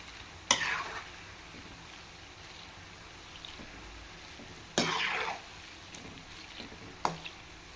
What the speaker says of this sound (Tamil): இப்போ நல்லா எண்ணெய் சூடேறனால நல்லா பொரிஞ்சு வருது பாருங்கள், அழகா